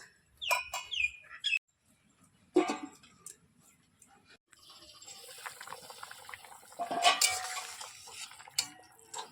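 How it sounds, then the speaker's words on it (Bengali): Water is poured onto fried masala in a pot and a lid goes on, with clattering metal knocks and a longer rushing, bubbling stretch; bird chirps sound briefly at the start. "মশলাটা কষানো হয়ে গেছে, এবার জল দিয়ে দেবো। ঢেকে দেবো।"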